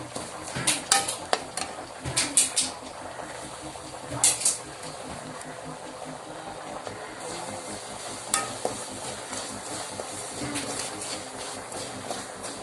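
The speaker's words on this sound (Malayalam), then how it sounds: "ഇത്രയും കളറാവുമ്പോൾ നമുക്ക് മല്ലിപ്പൊടി ഇട്ട് കൊടുക്കാം." Coriander powder stirred and fried in a pan for a chicken curry, a soft steady sizzle under scraping and occasional clinks of a spoon against the metal, close and fairly quiet.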